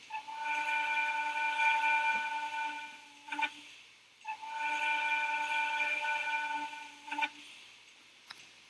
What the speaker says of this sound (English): here's the first whistle I have ever made.